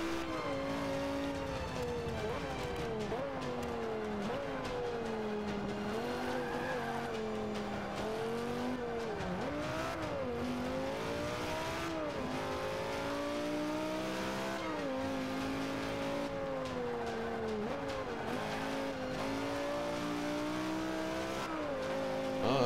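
In the Forza 5 racing game, an open-bodied car like a go-kart with a big engine revs hard, its engine pitch rising and falling through gear changes while tires squeal and skid, loud and continuous.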